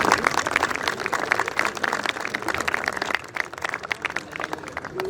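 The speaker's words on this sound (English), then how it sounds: "Please give a huge round of applause to Mia Usman Arif" An audience at a school house dinner in Lahore claps steadily for the whole stretch, a dense patter of hands filling the room without a break.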